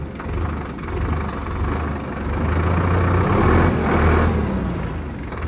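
A Preet 6049 Super four-cylinder tractor engine runs at speed with a loud, close, continuous rumbling drone that swells slightly toward the middle, with no talking.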